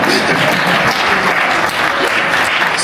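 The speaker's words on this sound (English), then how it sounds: "clap that up, yeah." An audience at a Black History Month kickoff celebration in Brampton claps steadily for an award recipient, a dense, even wash of applause that holds at full strength throughout without a break.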